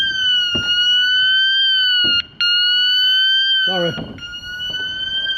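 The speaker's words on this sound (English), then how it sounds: "I think I've set alarms off. It is actually alarmed, this scaffolding" A scaffolding security alarm sounds loudly and close, a continuous electronic wailing tone that cuts out for a moment and resumes, and a voice speaks briefly over it.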